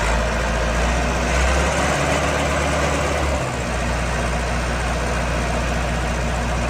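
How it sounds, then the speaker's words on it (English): A 1993 Vermeer 1250BC machine runs with a loud, steady, low engine drone and vibration while it rotates hydraulically, the rumble dipping slightly partway through. "The machine hydraulically rotates."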